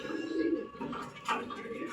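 A male racer pigeon with a very short tail coos softly and briefly close by, with a low murmuring tone and someone talking over it.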